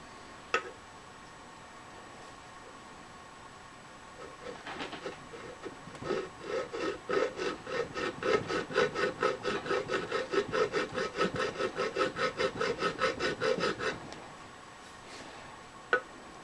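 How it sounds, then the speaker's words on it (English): A very coarse four-corner file rasps back and forth on wood in a steady rhythm of close, dry strokes, building from about four seconds and stopping near fourteen, with a couple of isolated knocks before and after. "this is a very coarse 4-corner file, but I think it's going to do what we need to do"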